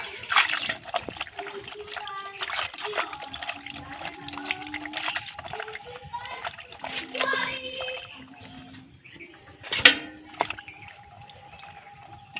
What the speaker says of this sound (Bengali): এই মাছগুলো জল দিয়ে ধুয়ে নেবো